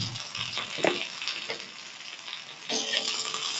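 Sliced onions and green chilies hit hot oil with mustard seeds in a pan, sizzling and crackling up close with stirring scrapes, the frying swelling louder toward the end, no talk.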